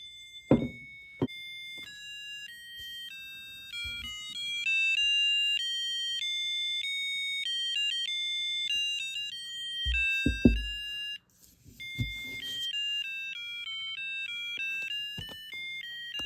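A Harry Potter collectible toy sound box plays a thin, bright electronic melody of steady beeping notes, close and clear, broken by a few handling knocks and clunks and a short pause before the tune resumes.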